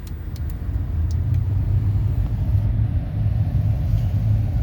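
A car engine idles steadily after a cold start in late-November weather, a low, even rumble that holds close and loud throughout without revving or pauses.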